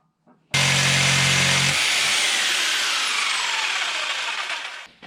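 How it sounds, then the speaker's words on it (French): A jigsaw cuts loudly and continuously through metal, harsh and buzzing, with a low motor hum at the start before it settles into a steady grinding rasp. "C'est pas évident avec la scie sauteuse, mais ça fonctionne quand même."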